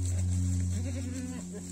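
Goats bleat in wavering calls over a steady low hum during autumn milking on a small farm, the cries fairly close and repeated across the short stretch.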